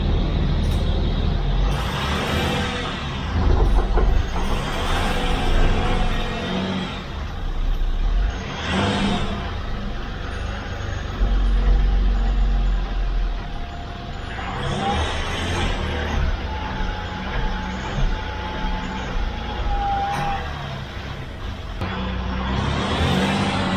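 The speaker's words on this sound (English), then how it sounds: "I can start the engine, let it run, give it some gas, and hit the brakes" A restored vehicle's engine runs and revs in several rising surges, with hissing bursts of air braking between them, loud and close over a continuous rumble, and voices talking now and then.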